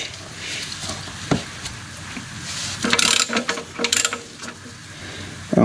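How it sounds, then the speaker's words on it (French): A 21 mm wrench working loose the oil drain plug on a Peugeot 2008, giving close metallic ratcheting clicks and scrapes in short bursts with quiet gaps between them; no speech. "c'est une clé de 21. On va venir desserrer tout ça."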